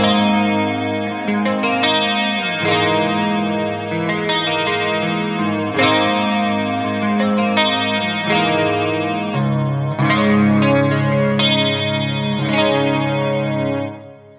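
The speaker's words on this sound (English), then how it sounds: "So that's a chorus and a reverb in the Fractal VP4" A shimmering electric guitar through an Orange OR30 amp strums sustained chords, thickened by a swirling chorus effect and a roomy reverb from a Fractal VP4, played steadily throughout.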